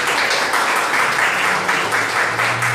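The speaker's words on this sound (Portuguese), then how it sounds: "Dá mais um aplauso forte para Jesus." A church congregation applauds during a Portuguese-language worship service, a steady close wash of clapping hands throughout with no talk over it.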